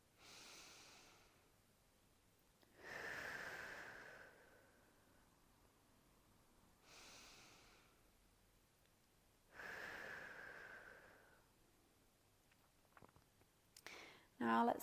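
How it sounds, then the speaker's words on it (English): Slow, deep breaths during a hip mobility and flexibility flow, with four unhurried inhale-exhale cycles separated by quiet pauses. The sound is soft and close, and a faint rustle of movement comes at the end. "We'll just take 2 more breaths here."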